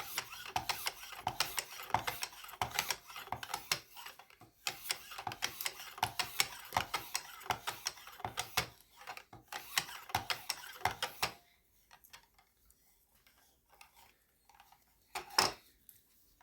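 Mechanical clicking and ratcheting from a Worksharp Precision Adjust knife sharpener as its stabilizing brace is worked loose from under the knife, busy rapid clicks for about eleven seconds, then near silence with one final sharp click.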